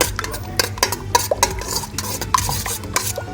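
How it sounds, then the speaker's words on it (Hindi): Yogurt mixed with gram flour is stirred in a bowl, a busy run of repeated scraping and clinking strokes with a steady wet churn beneath, close and fairly loud with no talking. "अब हम दही को थोड़ा सा हिलाएंगे कि मिक्स हो जाए।"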